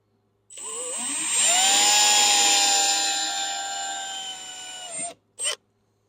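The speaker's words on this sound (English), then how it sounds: "Just drill a little hole in there." Small power drill boring a hole into a part of a skid steer with a burnt spool issue: a single high, whining run that starts, holds for a few seconds, then winds down, followed by a brief second burst.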